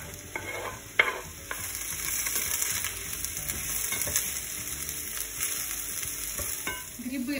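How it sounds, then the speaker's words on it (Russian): Mushrooms sizzle steadily in hot oil in a pan, with occasional scraping and stirring sounds throughout. "Грибы обжариваю несколько минут."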